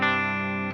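A UAFX ANTI amp pedal's rhythm channel in a 5150-style voice, with an electric guitar chord ringing out as a single sustained, moderately loud strum that decays smoothly before cutting off.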